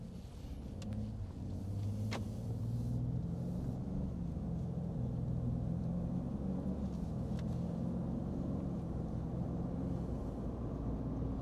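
A Ford F-150 Tremor pickup with a tuned 3.5 EcoBoost engine accelerates, heard from inside the cab as a loud, steady low rumble that builds and holds, with a few brief clicks early on.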